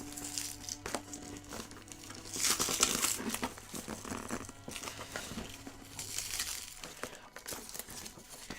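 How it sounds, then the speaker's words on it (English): Packing tape being peeled and torn off a deluxe Wraith: The Oblivion 20th Anniversary Edition game box, with crinkling, crackling and ripping sounds in bursts over several seconds, close and moderately loud. "No, just getting the tape off."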